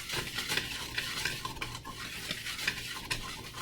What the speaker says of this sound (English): you want to make sure you mix your dry ingredients very well before you